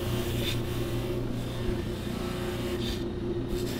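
A dark-finished metal knob held against a spinning plastic buffing wheel loaded with wax, a loud, steady motor hum and whir throughout with no pauses.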